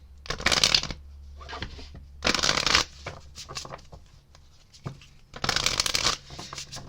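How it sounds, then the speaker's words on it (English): Tarot cards are shuffled in three loud, crisp bursts, each riffle lasting about half a second, separated by quieter handling sounds. "Please excuse the loud shuffling"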